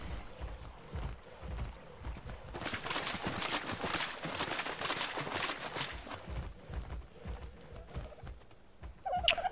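Dodo birds cluck and gobble in the survival video game Ark Survival Evolved, a steady run of clucking bird calls that grows denser midway and ends with a sharp click.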